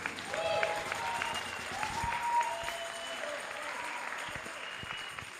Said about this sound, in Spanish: Recibimos con un fuerte aplauso en esta hora a la portadora de la palabra, Antonella Bastida.